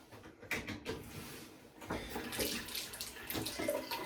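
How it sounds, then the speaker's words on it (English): Hot water running from a tap during a razor hone and shave session: a steady, close rush of water broken by a few clunks and handling noises, with no speech. "so I've got hot water running as well"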